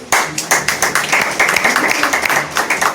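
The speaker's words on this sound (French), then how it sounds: "On pourrait applaudir le Seigneur?" A church congregation at a French-language service claps together, a dense, steady wave of hand claps that fills the whole stretch at close range, with faint voices mixed in.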